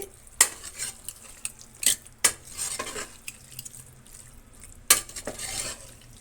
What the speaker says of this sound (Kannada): ಈಗ ನಾನು ಕಸ್ತೂರಿ ಮೇಥಿನ ನಾನು ಸ್ವಲ್ಪ ಮಿಕ್ಸ್ ಮಾಡ್ತಾಯಿದ್ದೀನಿ